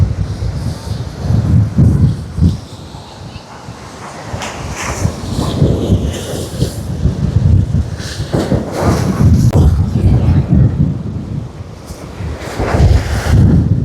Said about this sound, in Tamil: அலை அடிச்சடிச்சு தண்ணி எல்லாம் இங்கே வரைக்கும் வந்திருக்கு.